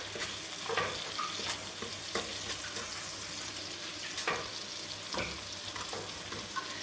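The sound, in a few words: butter, sugar and balsamic sizzling in pan with onions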